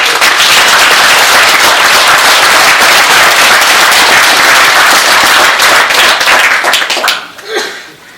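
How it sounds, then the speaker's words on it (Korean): A large audience claps loudly to welcome a foundation chairman at a commemoration of Ahn Jung-geun for the 70th anniversary of liberation, dense sustained applause that fades out near the end. "우리 안흥모 이사장님께 여러분 큰 박수로"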